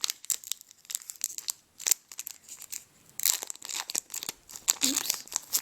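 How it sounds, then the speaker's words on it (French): A Pokémon card booster pack torn open by hand: close, crisp foil crinkling and tearing in irregular bursts, with a brief faint voice partway through. "ensuite on va passer au booster Drac au feu et après ce sera à toi d'ouvrir tes deux boosters"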